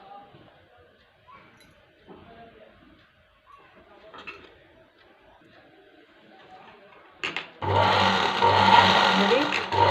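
A sewing machine stitching a cross strip starts up after several seconds of quiet handling noises and faint talk, then runs loud and steady with a fast whirring rhythm to the end.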